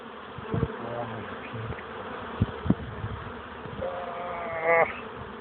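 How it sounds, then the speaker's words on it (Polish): Bees buzz close by, their drone rising and falling as they fly near, with a few brief knocks in between. "to jest pszczoła, która będzie szła do jesieni"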